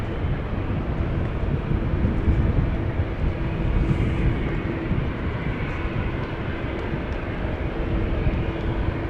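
An Airbus A321neo airliner at Amsterdam Schiphol Airport gives a steady, broad jet roar that stays loud and even throughout, with some wind buffeting on the microphone.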